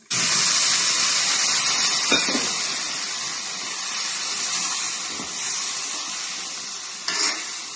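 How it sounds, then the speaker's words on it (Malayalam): Cooked beef goes into hot masala in a pan for Kerala-style beef varattiyathu and sizzles loudly and steadily up close. The hiss eases slightly over several seconds, with a few stirring scrapes and no talking. "പച്ചമുളകൊക്കെ മാറ്റി നമുക്ക് വേവിച്ച് വെച്ചേക്കുന്ന ബീഫ് ഇതിലോട്ട് ചേർത്ത് കൊടുക്കാം"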